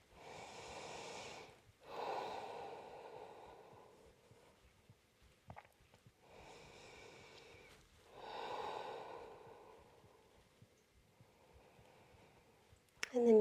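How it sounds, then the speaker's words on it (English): Slow, deep breaths taken while holding a yoga pose, several long airy inhales and exhales close to the ear with quiet pauses between and a faint click near the end. "Take a couple of breaths here."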